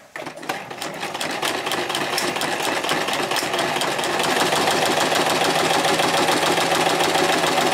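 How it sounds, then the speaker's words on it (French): A sewing machine stitches a seam on a central reinforcement, a rapid steady mechanical chatter that starts up quickly and runs continuously and close by, getting slightly louder toward the end. "je lève pour que je vois où est-ce que je couds"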